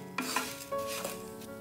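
Beaten rice (aval) dry roasting in a pan, stirred with a spoon: close scraping and dry rustling with a few sharp clinks against the pan, continuous with no voices.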